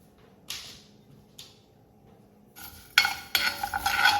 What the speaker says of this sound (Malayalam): ഉഴുന്നുപരിപ്പ് ഇതിലേക്ക് നല്ല ചുവപ്പ് കളറിൽ വറുത്തെടുക്കുക